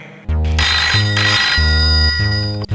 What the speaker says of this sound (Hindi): अरे अरे अरे मोर ससुराल के फोन है।